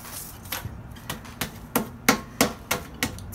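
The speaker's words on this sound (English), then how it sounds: "and we're just gonna hammer it out" Sidewalk chalk sealed in a Ziploc bag is struck repeatedly with a hammer, about ten dull, crunching thuds landing at a steady, quickening rhythm, close and fairly loud with no talking.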